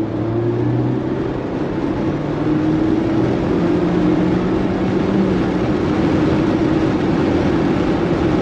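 Steady engine and road drone from inside a Mazda MX-5 ND RF pulling in third gear, a continuous smooth rise in revs with no talk over it.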